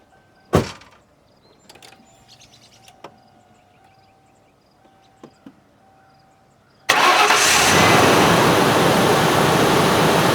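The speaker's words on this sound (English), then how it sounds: "I'm going to turn the key on and let the fuel pump for a second, and then we'll see." 1997 Lincoln Town Car with a 4.6 engine, freshly fitted with a rebuilt intake manifold: a few faint clicks and a fuel pump hum, then a sudden crank and start into a loud, steady idle right up close.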